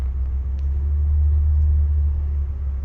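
A truck rolling slowly over wet ground gives off a steady low engine rumble and drone, constant and fairly close, with no voices.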